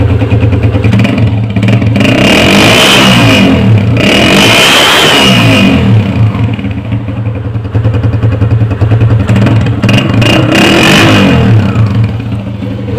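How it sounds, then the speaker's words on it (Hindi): A 1982 Honda CG 125 motorcycle engine idles steadily with a light ticking tappet clatter, swelling in two brief revs before settling back to a smooth, close idle. "सिर्फ हल्की सी टेबलेट की आवाज़ है"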